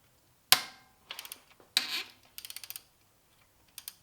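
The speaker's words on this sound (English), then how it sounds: "Now we're going to go ahead and loosen the other side of the alternator." A ratchet loosening an alternator bolt on a Subaru STI gives off quick bursts of close metallic clicks, a few short runs separated by pauses, with a sharp knock near the start.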